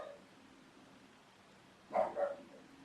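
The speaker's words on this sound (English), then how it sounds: "She barks at anything with a heartbeat that walks past." A dog gives two quick barks in a quiet indoor room, moderately distant and short, after a stretch of low background hiss.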